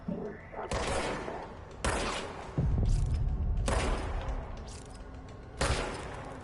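Gunfire from a gun in the video game Control, several loud single shots spaced a second or so apart, each a heavy crack with a booming rumbling tail, close and alone without talk.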